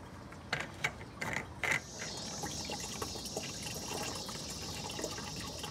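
Coolant draining from a Mini Cooper S R56 engine with the cap loosened: a few sharp mechanical clicks and knocks, then a steady, close hiss and rush of liquid pouring out continuously.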